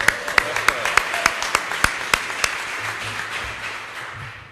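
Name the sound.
applause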